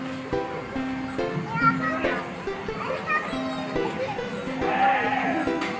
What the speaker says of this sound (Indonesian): Oh iya, ada kambing.